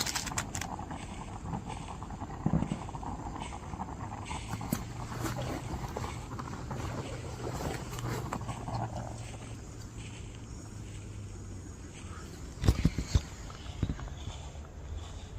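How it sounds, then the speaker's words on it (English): Footsteps of someone walking around outdoors at a campsite, soft and steady under a dull ambient hiss, with a louder burst of movement near the end. "it sounds like someone's just walking around"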